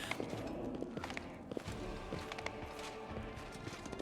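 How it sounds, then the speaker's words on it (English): Rapid clip-clop of horse hooves at a gallop in the game Pathfinder: Wrath of the Righteous, irregular thuds over a busy background of other game noises. "I can't believe there's a horse running around."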